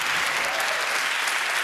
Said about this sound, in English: But hey, big applause.